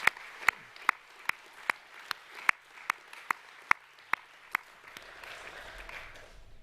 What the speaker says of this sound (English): Can we give a round of applause for our Year 8 Academic A+ winners?